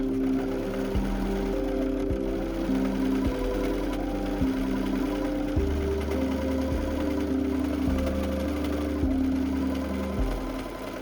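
Sewing machine stitching the seams of a tiered skirt, a continuous close mechanical hum and rattle with regular pauses and speed changes roughly every second, no voices.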